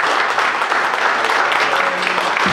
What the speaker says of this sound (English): So give them a round of applause, everybody.